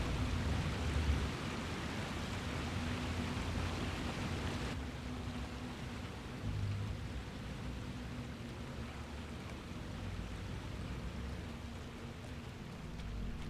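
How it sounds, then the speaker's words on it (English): A waterfall in the video game Lord of the Rings Online makes a constant, even wash of rushing water. The roar stays steady and moderately loud from start to finish with no voices. "Waterfalls are noisy."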